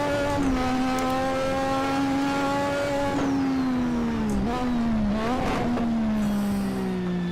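An old turbocharged race car in the Assetto Corsa racing game holds a loud, steady engine drone, with brief dips and rises in pitch as the throttle is stabbed. No voices are heard.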